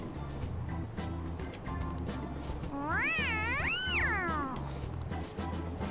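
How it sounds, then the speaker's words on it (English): A cat meows in the video game Persona 5, giving two drawn-out, rising-and-falling meows in the middle of the clip over steady background game music. "It's so cute, I want to hear it again. Dude, the cat's drooling."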